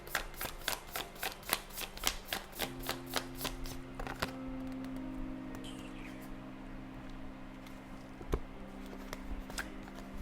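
Tarot cards being shuffled close up: a brisk run of rhythmic riffling flicks at first, then softer sliding and shuffling under a faint hum.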